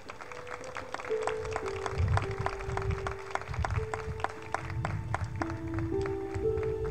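At a school graduation ceremony, scattered, crisp hand claps for distinguished students ring out over sustained musical tones, moderately loud and irregular throughout.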